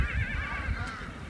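A horse in the Doodhpathri meadows of Kashmir gives a loud, close whinny that wavers for over a second, standing alone with no talk.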